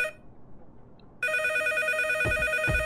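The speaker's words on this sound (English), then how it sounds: "Oh, the phone's ringing." A telephone in a video game starts ringing abruptly with a loud, sustained electronic bell tone after near-silence, joined by a couple of low thumps near the end.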